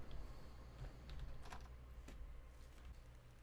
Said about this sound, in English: Now, you should be able to hear that clicking, because I hear it myself.